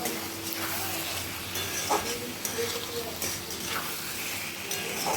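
Masala fries in a pan for a prawn and banana flower dish, giving a steady close sizzle with scraping stirs, while a voice talks over it.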